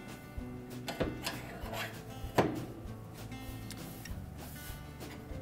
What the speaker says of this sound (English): with a large flat blade screwdriver, we're going to disengage these hooks that hold the back panel